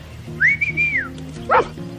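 A dog gives a high, drawn-out whine followed by a short yelping cry, loud and close over a steady background hum.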